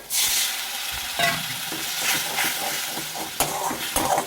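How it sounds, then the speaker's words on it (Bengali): Onion and garlic paste with coriander and chilli powder is sautéed for a fish curry, sizzling steadily and loudly up close, broken by scraping stirs and a few sharper clinks of the spoon against the pan, with no talking. "এখন দেখো এবারে ধনে গুঁড়ো দিলাম আর লঙ্কা গুঁড়ো দিলাম আর কিছু মশলা করবো না এবার এটাকে একটু আমি ভালোভাবে কষাবো"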